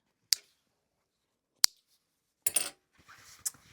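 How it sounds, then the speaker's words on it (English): Sharp scissor snips trimming sewing threads close while making pleated curtains for an Airstream trailer: two isolated crisp clicks, then a louder cluster of snipping and rustling of fabric, near and alone without talk. "So I snip my threads right up close."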